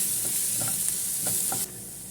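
Turmeric, Kashmiri chili and black pepper powders sautéing in a pan for lasagna, a steady close hiss with a few soft stirring scrapes, ending abruptly as the sizzle drops away.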